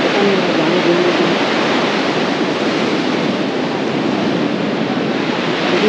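Ocean waves at Kovalam Beach in Trivandrum, a loud, steady roar of surf with constant wash and wind rumble, no voices.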